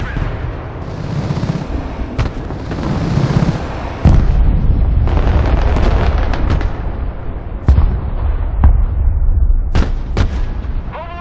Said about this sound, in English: Artillery ready to fire, sir. Providing direct fire.